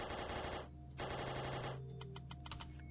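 Rapid automatic gunfire from exclusive weapons in the Pixel Gun 3D video game, PC port survival mode, sounding as loud sustained bursts with a short pause and then quicker scattered shots over a steady game background.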